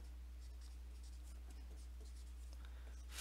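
Marker or chalk writing out a formula on a classroom board, a run of faint, irregular scratchy strokes and taps over a steady low hum, with no one talking.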